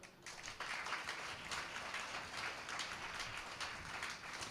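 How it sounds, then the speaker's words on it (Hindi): Audience clapping steadily throughout at a Hindu religious discourse on devotion in Akola, a dense, sustained round of applause from a seated crowd with no voices over it. "हमारी चंदा बुआ के लिए ताली बजाओ जरा"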